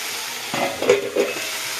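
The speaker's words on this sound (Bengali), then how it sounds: "হলুদ দিয়ে ভালো করে ভেজে নেবে" Pointed gourd with turmeric frying in a pan, giving a steady close sizzle with a few short stirring scrapes in the middle, no voices.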